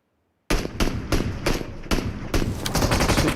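Rapid pistol gunfire in a PUBG Mobile esports match, a dense run of loud, closely spaced shots that begins abruptly after a moment of silence and continues without a break.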